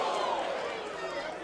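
A boxing crowd reacting to a left hand punch at a ballroom boxing event, a dense murmur and swell of many voices that stays steady throughout.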